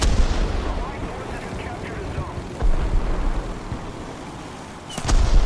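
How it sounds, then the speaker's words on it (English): War Thunder artillery barrage, a dense rumbling roar of distant explosions and impacts rolling on continuously, with a sharper blast near the end. "Especially when the artillery barrages started falling, which they did."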